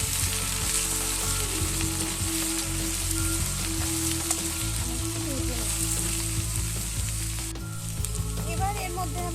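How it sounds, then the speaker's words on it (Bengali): Eggplant and potato pieces frying in a pan, a close, busy sizzle with crackles and stirring scrapes, plus a low steady hum beneath and a brief pause near the end. "দিয়ে আলুর সাথে আমি আবার একটু বেগুনটাকে ভাজা ভাজা করে নেব।"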